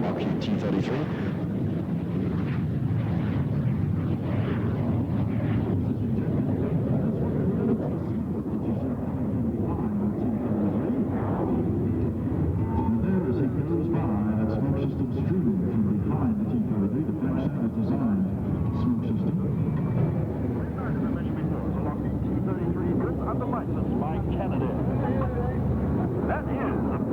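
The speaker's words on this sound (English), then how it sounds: "Rick Rickett at the controls is revving up the engine now, that Rolls-Royce Mean 10 engine." A Lockheed T-33 jet's Rolls-Royce engine revs up, a loud, steady broadband roar with rising and swelling intensity, sustained throughout under an announcer's voice at an air show.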